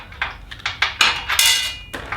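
Bolts being unscrewed by hand on a budget motorcycle and e-bike hitch carrier, heard as a close series of sharp metallic clinks and taps in an irregular rhythm, with no talking.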